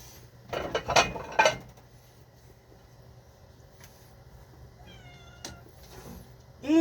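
Cats meow in a kitchen, excited over spaghetti: a burst of loud meows near the start with clinking dishes and cutlery, then quieter scattered meows and a sharp meow at the end.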